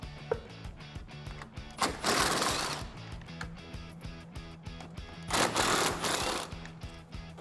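A socket wrench on a long extension loosens the headlight bolts of a 2015-2021 Dodge Challenger, making rapid ratcheting clicks with two louder, denser bursts, all close and alone.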